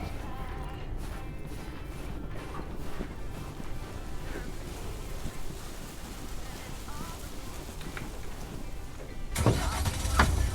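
A truck drives in a video game with a steady, rumbling engine drone and wind-like rushing noise that holds even throughout and swells louder near the end.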